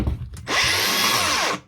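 A Makita DGA463 cordless angle grinder with a worn bearing spins up after a brief handling clatter, whining loudly and roughly for about a second before cutting off.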